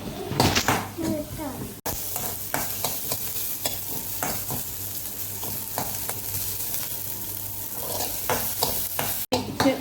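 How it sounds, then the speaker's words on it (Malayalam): Sliced onion (savala) sautés in a pan with curry leaves, a steady crackling sizzle broken by repeated sharp scrapes and clinks of a spoon stirring against the pan, with faint children's voices and kitchen clatter in the background. "സവാള ഇങ്ങനെ വഴറ്റണം."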